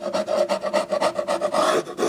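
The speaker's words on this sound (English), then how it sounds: "I'm going to sand the bottom and get these nails out of here." Rhythmic back-and-forth rasping of sanding on the wooden cabinet of a 1935 Crosley 635/655 radio, about a dozen even, close strokes in quick succession with no voices.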